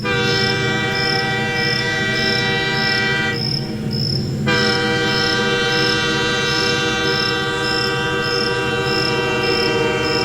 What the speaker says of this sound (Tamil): அங்கு நின்று கொண்டிருந்த ரயிலும் புறப்பட தயாரானது.